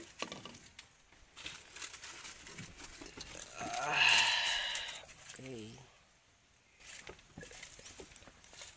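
A newborn baby goat bleats loudly once, a wavering cry near the middle, with a shorter low bleat after it over rustling and scraping background noise.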